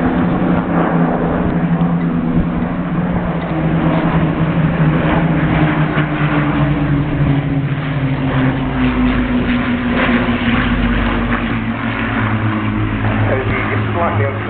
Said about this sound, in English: So the slightly uncertain Spitfire to the left, the Hurricane to the right.